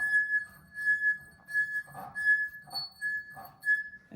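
A second drinking glass sings at its own natural frequency, a steady, faint pure tone held throughout, with soft rubbing and handling noises pulsing beneath it.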